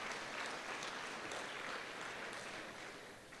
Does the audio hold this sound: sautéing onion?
no